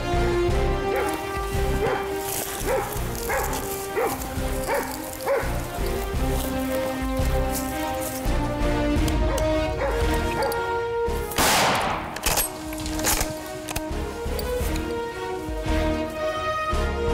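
A blood-tracking hunting dog barks in repeated sharp yips amid a noisy outdoor setting, with rustling and steady patter of rain in the background during a hunt for a wounded stag.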